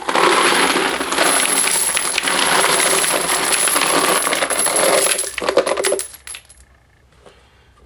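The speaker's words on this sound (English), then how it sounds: "So you want to add your brass." Brass cartridge cases, about 150 mixed calibres including 9 mm, .45 ACP, .223 and .30-06, pour into a Cabela's Model 400 tumbler as a loud, dense metallic jingling cascade that runs steadily for about six seconds, then stops abruptly.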